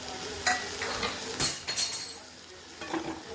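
Onion and tomato for masala egg cooking in a pan, with soft sizzling under intermittent stirring and a few utensil clinks against the pan, close and fairly quiet, no talking.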